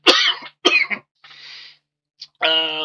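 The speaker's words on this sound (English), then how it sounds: "I'm going to have to cough here for a moment." Two sharp, close coughs, followed by a softer throat-clearing rasp and a short voiced grunt.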